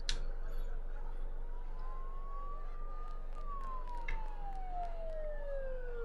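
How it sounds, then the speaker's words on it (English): Wailing emergency sirens in the Persona 4 Golden video game rise and fall slowly over a constant low ambient drone, sounding moderately distant in a foggy town scene. "Don't those sirens sound really close?"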